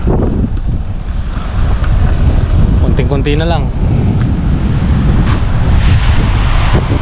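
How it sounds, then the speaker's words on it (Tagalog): Loud rushing of a risen, fast-flowing river in Laurel, Batangas roars continuously with heavy wind buffeting the microphone; a person speaks briefly partway through. "tumaas at mas mabilis ang agos ng tubig"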